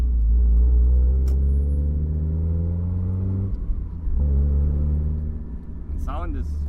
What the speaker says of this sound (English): sound is nice, like 80s rally car. 80s rally car. Yeah, happy little engine.